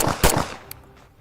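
A single close, sharp M1911 Alpha 1 pistol shot on a shooting range, with a brief echoing decay that dies away quickly.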